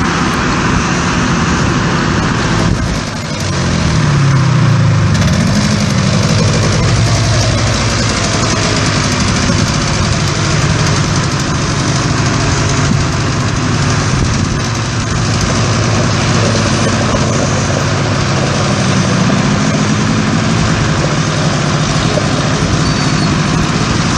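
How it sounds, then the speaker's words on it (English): A four-wheeler ATV engine runs continuously while a lawn is being seeded, a loud steady drone close by with little change across the whole stretch. "gonna go with the four-wheeler"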